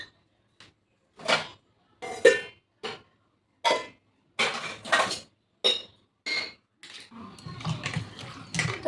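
Steel dishes, plates and pans being stacked and set in place in a home kitchen, a series of separate clattering clinks with short silences between, busier jumbled clatter toward the end.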